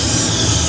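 A crop sprayer spraying soybeans gives off a loud, steady close hiss of spray that holds evenly throughout and cuts off at the very end.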